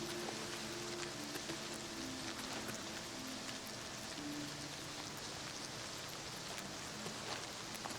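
Steady rain pours in the video game Oblivion Remastered, a dense, continuous hiss of falling water with faint tonal music underneath, heard alone without talk throughout.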